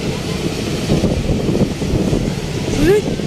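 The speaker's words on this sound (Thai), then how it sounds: "โอ้ย ลมแห้งขนาดเลยผม" Strong, cold outdoor wind gusting steadily against the microphone in a continuous rough rumble, with a faint voice rising briefly near the end.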